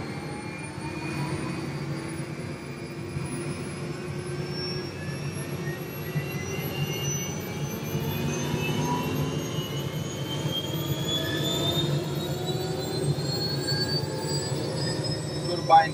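Helicopter turbine engine starting up, a steady whine with several tones sweeping gradually upward in pitch over a low rumble as the engine spools, continuous and moderately loud throughout.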